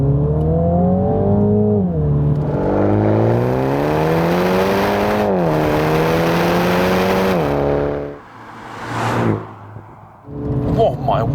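A BMW MINI GP3 accelerates hard with a loud, close engine note that climbs through the gears in rising sweeps, then briefly drops and surges again, with a voice speaking over part of it.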